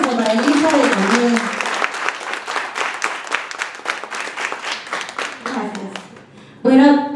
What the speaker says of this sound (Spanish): Van a hacer un fuerte aplauso